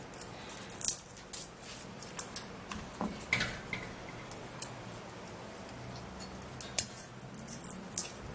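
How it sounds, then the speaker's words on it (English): Garlic cloves peeled by hand in a home kitchen: faint, scattered clicks and papery crackles of skins tearing, irregular and close, with no talking. "I'm going to be peeling the garlic"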